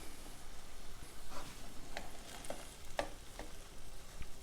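Garlic sizzles steadily in a frying pan while a utensil stirs and scrapes it, giving soft, close clicks over the constant low hiss of frying, with no talking.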